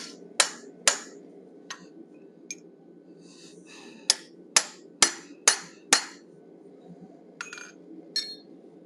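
Hammer striking a pointed punch while forging a bison head, with about a dozen sharp metallic clinks at irregular intervals, close and crisp over a faint background hum.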